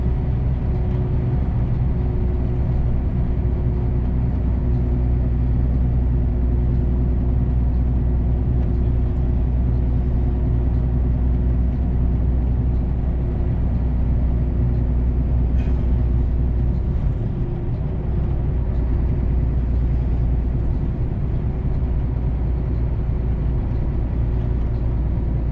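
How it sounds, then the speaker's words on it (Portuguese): Trucks pass on a São Paulo highway in a constant, loud roaring drone of engines and tyres, steady throughout with no speech. "fiquei incomodado com esses barulhinhos, cara, de caminhão"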